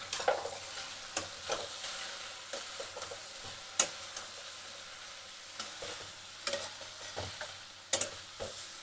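Mango pieces sizzle softly in hot ghee in a pan while a spoon stirs and scrapes, giving a steady faint frying hiss broken by irregular clicks and taps.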